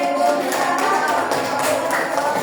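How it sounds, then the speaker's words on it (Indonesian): A class of students claps during a school lesson, a close, loud patter of many hands that carries on steadily for a couple of seconds. "Tepuk tangan"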